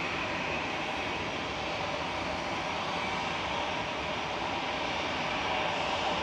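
A Jet2 Boeing 737-800 airliner at Manchester Airport gives a steady, loud, broadband engine roar that holds constant throughout, with no voices.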